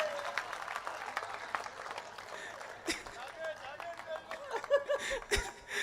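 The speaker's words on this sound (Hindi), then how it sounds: "आप ताली बजाओ" A Hindi comedy poetry event audience claps and applauds in uneven bursts, with scattered sharp claps and some laughter mixed in, fairly close and of moderate loudness.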